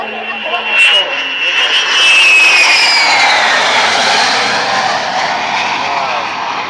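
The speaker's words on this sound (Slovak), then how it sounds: "lietadlo sa touto ukážkou na cestovnej rýchlosti približne 300 km za hodinu v letovej konfigurácii s nami rozlúčilo" A fixed-wing aircraft makes a low, fast flyby at roughly 300 km/h during the 2010 air show at Nové Zámky, a loud roaring engine whine sweeping past close by with a falling pitch as it passes.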